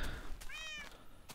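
A single cat meows in the game Minecraft, one short rising and falling mew, faint and alone amid soft background noise.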